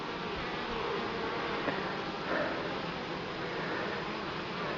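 A faint, continuous buzzing of honeybees at a water feeder in an apiary hovers under a hissy background, low and steady with no speech.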